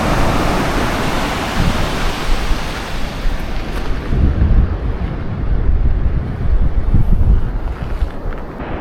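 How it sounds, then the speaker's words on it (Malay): Steady outdoor wind buffeting the microphone on a cold winter day on the Fukushima Pacific coast in Japan, a loud continuous low rumble with gusty swells and no talk. "Oh, sejuknya angin."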